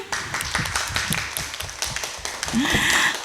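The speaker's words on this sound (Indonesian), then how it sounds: "tepuk tangan dulu" A group claps hands in a school classroom during a teaching session, with irregular claps spread across a few seconds and background voices mixing in.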